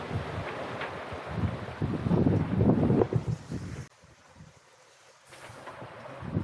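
Wind of about 20 knots buffets a sailboat under genoa, loud rumbling gusts battering the microphone for several seconds, then a sudden lull before the blustery roar returns.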